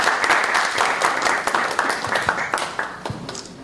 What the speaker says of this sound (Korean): 다시 한번 큰 박수 보내주시면 고맙겠습니다.